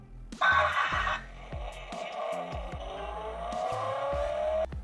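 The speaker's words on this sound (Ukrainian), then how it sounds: "кнопка звук імітації двигуна" A short burst of electronic tones, then a synthetic engine revving sound from a children's BMW ride-on electric car that rises steadily in pitch, close and fairly loud.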